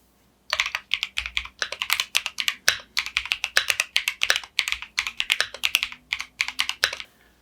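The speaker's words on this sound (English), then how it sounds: "And now how the original Keychron tactile switches is sound." Rapid, steady typing on a mechanical keyboard with original Keychron tactile switches, close up: a dense run of clacky keystrokes in bursts, no speech.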